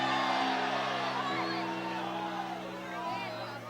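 A church congregation shouts and cheers "glory to God" in a sustained, roaring wave of many voices that fades slightly toward the end, with no single speaker above it.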